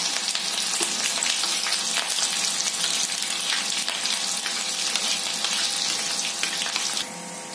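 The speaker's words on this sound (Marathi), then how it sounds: "आता लसूण घालते। लसूण मिरची एकत्र" Garlic and green chillies fry in hot oil in a kadhai, giving a steady, close, hissing sizzle with soft stirring. It drops away abruptly near the end.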